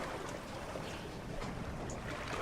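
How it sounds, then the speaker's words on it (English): Water swirls around a boat as a steady, close wash of sloshing and rushing water, mixed with a windy hiss and no pauses. "I heard a swirl of water"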